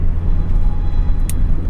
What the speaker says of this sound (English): now we're driving back home, just kind of testing out the feel of the clutch and everything